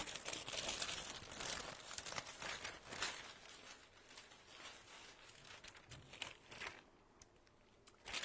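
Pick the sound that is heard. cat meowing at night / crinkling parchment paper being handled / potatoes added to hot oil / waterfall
crinkling parchment paper being handled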